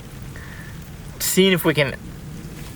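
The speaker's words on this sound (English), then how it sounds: "outwait the rain just a smidge," Steady rain drums on the roof of a parked Toyota 4Runner during an elk hunt in Colorado, a constant close patter heard from inside the vehicle while someone speaks briefly over it.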